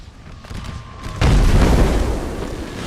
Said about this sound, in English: Artillery is just focusing down this unit here.